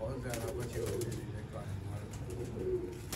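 Parwazi pigeons coo softly in low, repeated murmurs over a steady background hum, with a faint voice briefly in the mix.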